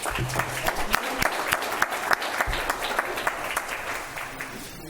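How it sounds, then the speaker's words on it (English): Audience applause at a talk or panel event, a moderately loud burst of clapping with distinct individual claps that gradually thins out toward the end. "let's give a round of applause"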